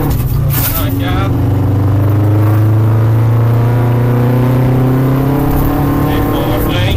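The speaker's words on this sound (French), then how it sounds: "Troisième, accélération progressive." A rally car engine pulls steadily in third gear under progressive acceleration, its pitch climbing smoothly and loudly from inside the cabin while a co-driver talks over it.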